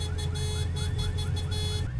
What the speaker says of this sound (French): Il y a des klaxons en tout genre, c'est trop bien.